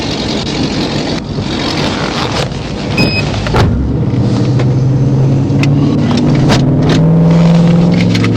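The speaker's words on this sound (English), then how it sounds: "Start your car" A car engine cranks and starts beside a police dash cam, a rough broadband rumble that settles into a steady, louder idle hum over several seconds, with no talk.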